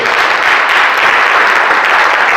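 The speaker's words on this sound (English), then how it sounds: "Give them a round of applause." Loud, close round of applause from a conference audience, continuous clapping at an even level throughout with no speech over it.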